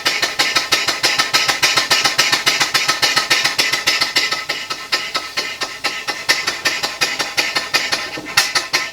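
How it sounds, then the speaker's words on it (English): A full-size steam engine, big enough to push a boat, runs at high speed with a rapid, even chuffing beat that holds steady throughout, loud and close with no voices. "Instant reverse with a steam engine."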